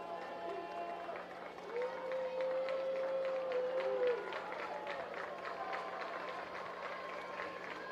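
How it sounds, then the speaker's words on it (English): A home crowd at an Oklahoma United FC soccer final applauds a substituted player, and the clapping and murmur carry on at a steady distance as a whistle-like tone rises briefly in the middle. "Round of applause from the home crowd for Bossman-Kwanzaa."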